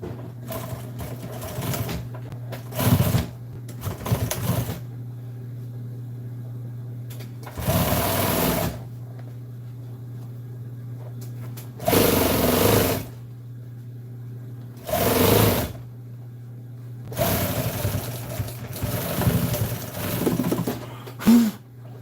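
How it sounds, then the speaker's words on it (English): Sewing machine stitching a car seat cover piece in short bursts, about six runs of rapid mechanical chatter separated by pauses over a steady low motor hum, close and fairly loud. "I'm gonna sew this piece right here in place with all its"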